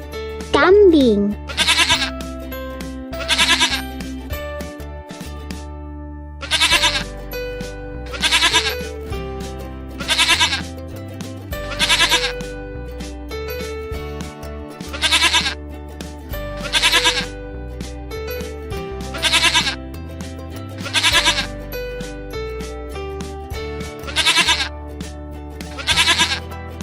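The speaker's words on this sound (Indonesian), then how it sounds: "Kambing." A goat bleats over and over in short, loud, wavering cries spaced a couple of seconds apart in a steady rhythm, with a brief voice near the start.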